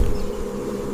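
A swarm of bees buzzes in a dense, steady drone, close and continuous throughout, with no other sounds or voices.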